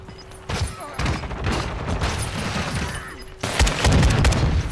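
Gunfire in Call of Duty during a League Major qualifier match rings out as several sharp, loud bursts and booms, with a brief pause before a heavier cluster near the end.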